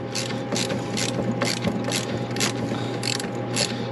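A ratchet wrench clicks in quick repeated bursts while unbolting a part from a Toro Power Clear 180 snowblower, close and fairly loud over a steady mechanical hum, with no talking.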